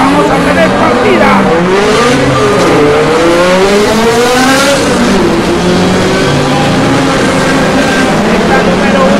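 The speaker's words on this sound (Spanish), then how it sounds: "Se van a acelerar todos los autos." Several race cars at the start of a circuit race in Panama rev and accelerate together, a dense, loud roar of rising and overlapping engine tones with a commentator talking over it throughout.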